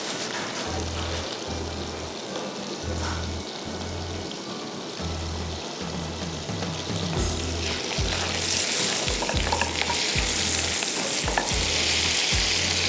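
Garlic frying in oil in a pan, a steady, loud sizzle running throughout, with occasional stirring, growing brighter and more intense in the second half.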